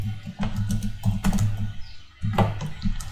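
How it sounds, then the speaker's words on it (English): Quick bursts of typing on a computer keyboard while entering a search, crisp clustered keystrokes close up with a brief pause midway, no voices. "if I go and type, for example, right here and search"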